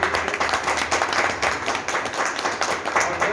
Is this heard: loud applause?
yes